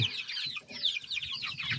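A small Sebright hen, a porcelain-coloured bantam chicken, gives a few soft clucks and chatters close by, alone with no talking.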